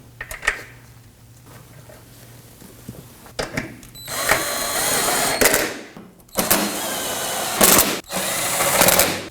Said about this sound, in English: Let's now install our 3 bolts on the front side here.